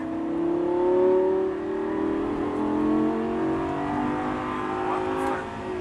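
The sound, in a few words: Lamborghini Gallardo accelerating on Paul Ricard track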